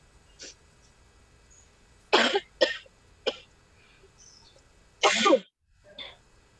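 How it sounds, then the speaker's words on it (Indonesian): Several sharp coughs in irregular succession, close and fairly loud, with two heavier bursts and quieter ones between short pauses. "Mohon maaf, Pak, batuk."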